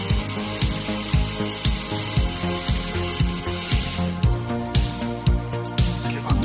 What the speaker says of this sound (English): fully automatic drilling and chamfering machine